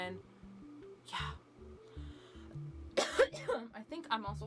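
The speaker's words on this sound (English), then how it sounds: "I think I'm also coughing because my throat's dry." Dry-throated coughing from a person indoors, a couple of harsh bursts and throat-clearing sounds set against a low, steady rhythmic music bed, close to the listener.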